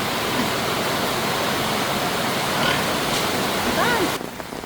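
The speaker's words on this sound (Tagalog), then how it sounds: "tingnan nyo po, sapa" Creek water rushes steadily beside a flooded field planted with crops, a broad continuous wash that holds even throughout before dropping off abruptly near the end, with a few faint chirps above it.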